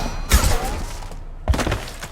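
Gunfire in the video game Mass Effect 2: two heavy thudding shot bursts about a second apart, each trailing into a rumbling decay, with a short gap of near quiet between.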